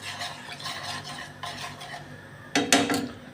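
A spoon stirs eggplant pieces in oil in a pan, giving soft scraping and clinking strokes in a quick rhythm, close by, and ending in a louder metallic clatter.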